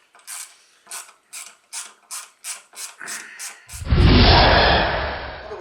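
A T20 Torx driver backing out the bolts on a CBM Motorsports high-amp alternator's regulator makes about ten close, rhythmic ratchet clicks, followed by a louder, longer rasping mechanical whir.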